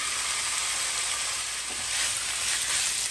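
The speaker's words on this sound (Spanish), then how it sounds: "En este sartén voy a agregar un chorro así de aceite y también voy a agregar toda la carne" Beef sizzles in hot oil in a frying pan over high heat, a steady bright crackling hiss with a brief stir partway through and no talking.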